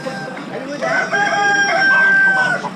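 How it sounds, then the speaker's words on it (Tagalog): A pheasant at a small animal auction gives a loud, close, harsh crowing call that swells and holds for about two seconds over a faint background. "Yan ang pinakamagandang pheasant."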